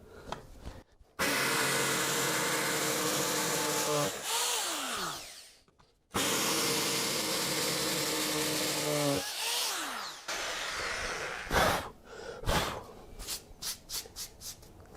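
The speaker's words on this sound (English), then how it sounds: "So there's our 3 pilot holes drilled." A power drill boring pilot holes into wood: two long, steady high-pitched whirring runs with a brief pause between, each trailing off as the bit slows, followed by scattered clicks and handling noises.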